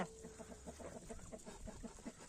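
Farmyard poultry including ducks and turkeys cluck in short, repeated bursts, a busy, steady patter of nearby calls across a small homestead yard with no voices.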